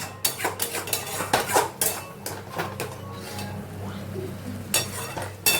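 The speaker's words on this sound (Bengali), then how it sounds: "টমেটো সব মিশ্রণ মশলা সব ভালো করে কষে নিচ্ছি আমি" Tomato and spice mixture stirred and fried in a pan, with repeated clinks and scrapes of a utensil against cookware over a low steady sizzle, loud and close, in uneven bursts.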